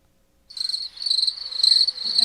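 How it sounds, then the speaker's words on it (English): Crickets chirp in a steady, high, pulsing trill that starts suddenly and carries on without a break, close and fairly clear, with a faint low rustle near the end. "Crickets can go on for a very long time"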